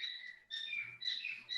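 Pet birds chirping indoors, a few faint, thin high-pitched tweets in short bursts with brief gaps between them.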